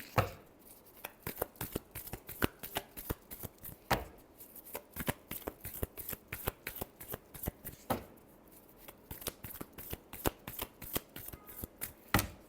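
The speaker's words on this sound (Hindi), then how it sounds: "Last shuffle." Tarot cards being shuffled by hand, a long run of crisp riffling slaps and snaps in quick uneven bursts, close and clear, with no talking over them.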